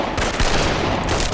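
A dense, loud burst of rapid gunfire fills a brief moment of a Chinese period TV drama scene in which soldiers open fire on protesters.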